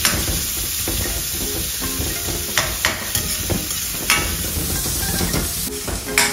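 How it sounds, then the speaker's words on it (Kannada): Kerala-style sambar being stirred and mixed in a pot, with a busy, continuous scraping and sloshing and occasional sharper knocks of the spoon against the pot, close and loud, with no voices. "ಒಳ್ಳೆ ಮಿಶ್ರಣ ಮಾಡಿ, ಸೂಪರ್ ಮಿಶ್ರಣ ಆಗಬೇಕು."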